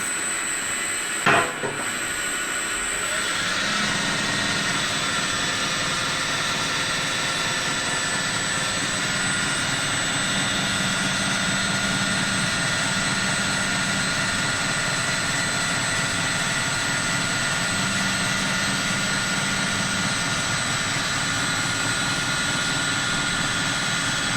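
An aluminium bicycle rim being cut on a spinning machine with WD-40 as lubricant gives a steady, loud whirring whine with a broad grinding hiss that holds constant throughout, after a brief knock near the start.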